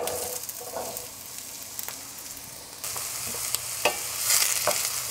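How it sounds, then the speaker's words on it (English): Onions sauté in a pan for Persian cabbage and rice, giving a steady close sizzle with occasional light stirring clicks and scrapes throughout, with no talking. "the onion are cooking, sauteing"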